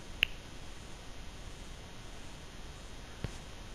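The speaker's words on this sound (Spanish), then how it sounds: "Y hacer después este chasquido." A single sharp finger snap rings out near the start over a quiet hiss, followed much later by a fainter click.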